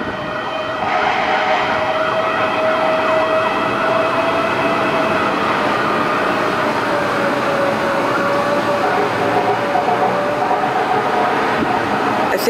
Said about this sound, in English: Oh, there's another fire truck right there.